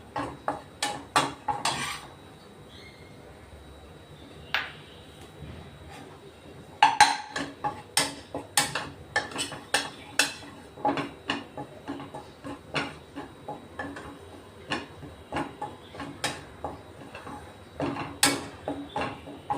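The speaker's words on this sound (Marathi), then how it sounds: "पीठही आपण थोडं भाजून घेऊ, कारण त्याचा कच्चापणा निघून जाईल ना" Gram flour being dry-roasted in a pan for milk barfi, with a spoon scraping and clinking against the metal in quick, irregular bursts, close and fairly loud, with no talking.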